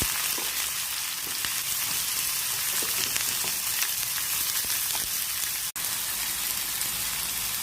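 Steady crackling sizzle of finely chopped onions frying in hot oil for a goat brain fry, dense and continuous with scattered pops, no voices.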